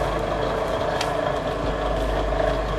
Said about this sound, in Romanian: Butonul ăsta are niște paleți care rotindu-se să ia pielea și o ridică, o întoarnă